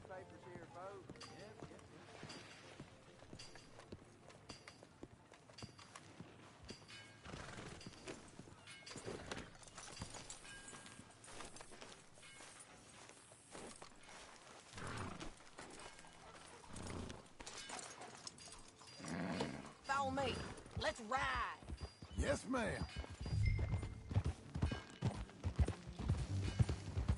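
Horse hooves clop along at a riding pace in a western video game town, steady and fairly quiet under music and characters' conversation, growing louder and busier toward the end.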